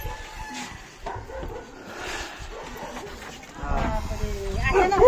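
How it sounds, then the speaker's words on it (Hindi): A dog barks a few times in the background while people talk nearby, the barking fairly faint and mixed with general movement noise. "ये देखो इन्हीं का ही है डॉगी,"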